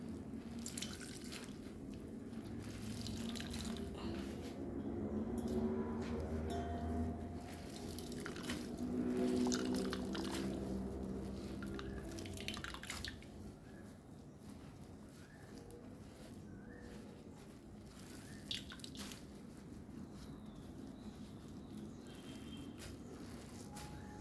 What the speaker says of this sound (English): So now let's squeeze this starch.